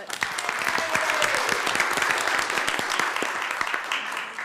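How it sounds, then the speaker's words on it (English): Steady applause fills a city commission meeting room, many hands clapping together at an even level for several seconds, a brief tone sliding faintly underneath and no one speaking. "Well, we'll give it a clap."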